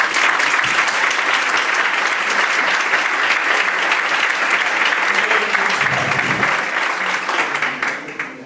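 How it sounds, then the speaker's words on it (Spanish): Audience applause at a conference in Algeciras, a dense, sustained burst of clapping from a sizeable crowd that holds steady and then thins out toward the end. "un aplauso ya por eso"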